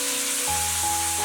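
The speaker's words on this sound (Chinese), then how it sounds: "油热放入蒜末，炒出香味儿，倒入西红柿" Tomatoes drop into hot cooking oil with minced garlic in a wok, giving a loud, steady sizzle with no talking.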